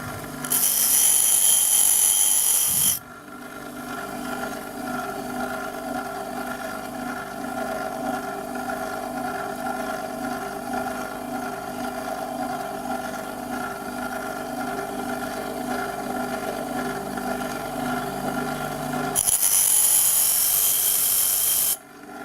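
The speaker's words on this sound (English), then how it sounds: "I do this sharpening on the same grinding wheel and I hold the drill at about" A grinding wheel hums with a steady motorized whine while a drill bit is sharpened on it, with harsh, hissing grinding bursts at the start and again near the end.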